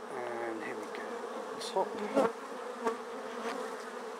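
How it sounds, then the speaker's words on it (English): Honeybees from a quadratic hive buzz steadily and densely as the hive boxes are reversed, a close, continuous drone with a few louder surges, while a person speaks briefly over it. "You better watch the reaction of the bees to this move."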